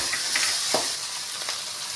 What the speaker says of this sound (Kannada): ಇವಾಗ ಶುಂಠಿ ಬೆಳ್ಳುಳ್ಳಿ ಪೇಸ್ಟ್ ಹಾಕ್ತೀನಿ. ಹಸಿರು ಮೆಣಸಿಗೆ ಹಾಕ್ತೀನಿ.